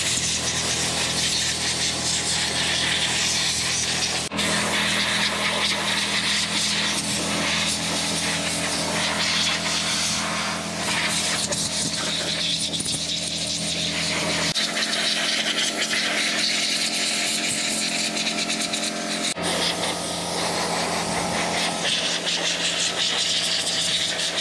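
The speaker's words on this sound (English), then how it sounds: "And the air compressor works really good." An air compressor blasts air to clean an adaptive mountain bike, a loud continuous hissing roar with a steady mechanical hum underneath and brief changes in tone.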